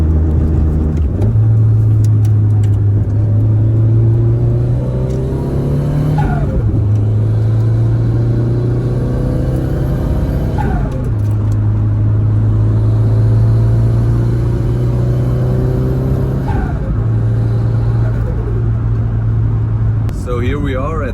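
Nissan S13 engine droning steadily at cruising speed on the Autobahn, loud and close, with periodic dips and rises in pitch as the gears shift up.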